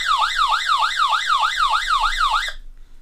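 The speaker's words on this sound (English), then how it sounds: "It's a siren basically." A SUNGLIFE solar crank NOAA emergency weather radio sounds its built-in siren, a loud, close warbling wail rising and falling about eight times before cutting off abruptly.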